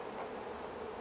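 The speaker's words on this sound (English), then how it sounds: "Looking at the bees on the top of the frames here" Honey bees buzz steadily across the tops of hive frames in a colony being checked for chronic bee paralysis virus, a close, continuous hum with no voices.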